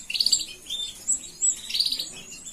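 Young canary chicks, a brood of four with two crested and two buff plain-headed birds, chirp in high, thin bursts that come and go in a quick, irregular patter, close by and fairly soft.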